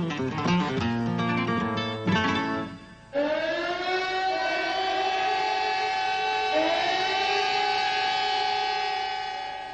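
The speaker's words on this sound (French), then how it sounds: "Lorsque les sirènes ont sonné" Loud wailing air-raid sirens in Barcelona blare continuously, shifting tones at first, then settling into a long sustained howl that slowly rises in pitch.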